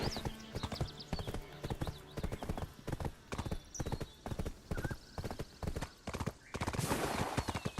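A horse's hooves clip-clop steadily in an MMO video game, a brisk, close, rhythmic gallop running throughout with a short whinny and game effects layered over it.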